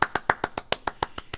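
A run of about ten crisp hand claps at a steady, quick rhythm, close and fairly loud, with nothing else under them.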